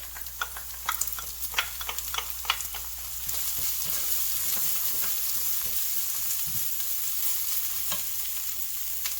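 Garlic and shallots frying in a pan for a spicy pepper paste, with a steady close sizzle broken by repeated clinks and scrapes of stirring. The sizzle thickens and grows louder partway through.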